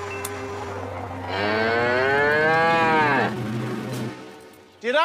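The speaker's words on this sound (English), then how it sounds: "Did I just hear a cow?" A single cow gives one loud, sustained moo that rises slightly in pitch before cutting off, and the quieter background returns afterward.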